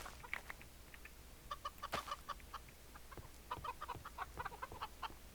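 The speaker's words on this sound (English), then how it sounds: "Hello, chickens. You're giving me nice eggs to cook with." Chickens in the Minecraft video game clucking in short, rapid bursts, several birds overlapping in irregular clusters, moderately close and clear over a low steady hum.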